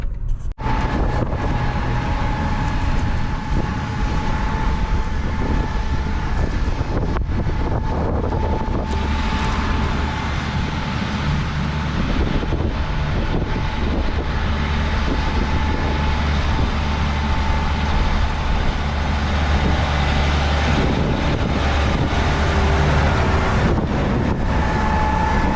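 Steady wind gusting outdoors on a windy morning in Indiana, a broad continuous rushing roar buffeting the microphone, with a low vehicle hum beneath it and no talk.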